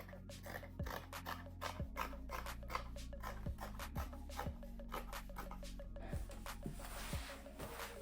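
Scissors snip through denim jeans being cut into a skirt, a quick, steady series of close crisp cuts and rasps running continuously at an even rhythm.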